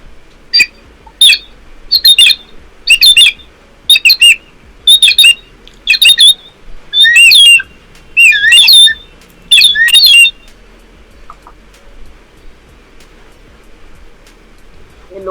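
A bamboo folk instrument mimics bird calls in a series of about nine sharp, bright chirps and squawks, evenly spaced and loud, stopping abruptly and leaving quiet background for the last few seconds.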